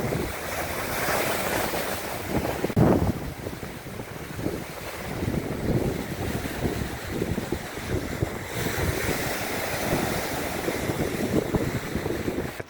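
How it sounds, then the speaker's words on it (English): Gusty wind buffets the microphone as waves wash against a lake shore at a campground, rough and uneven, rising and falling without voices. "There's some waves today. Windy and colder."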